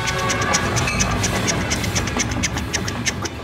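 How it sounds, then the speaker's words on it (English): A train sound effect, a steady rumbling roll with rhythmic clicking and clacking that carries on without a break for a few seconds, with no voices over it. "Do you hear that? It's the idea train."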